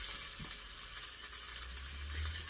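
Diced carrots sizzling in a hot pan with ground meat for Bolognese sauce, a continuous bright crackling fry held at an even level, with a low soft stirring thump near the end.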